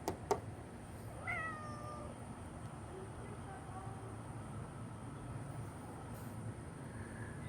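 An orange cat gives a few faint meows early on over a steady low outdoor rumble, with a sharp click or knock at the very start.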